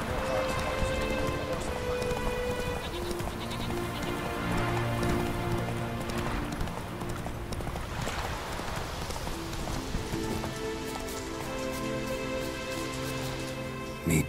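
Horse hooves clip-clopping at a steady trotting rhythm in The Witcher 3: Wild Hunt, continuous and fairly close, mixed with rain pattering on surfaces and a sustained musical drone underneath.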